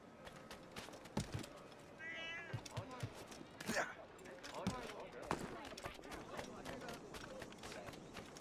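A white cat in the Assassin's Creed Rogue video game gives a short meow over busy street ambience, with footsteps and game sounds around it.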